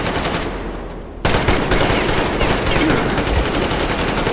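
Rapid machine gun fire in the video game Metro Exodus rattles in a dense, continuous burst, loud and close, after a brief moment of lower noise at the start.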